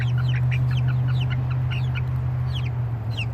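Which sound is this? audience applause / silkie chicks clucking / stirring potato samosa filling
silkie chicks clucking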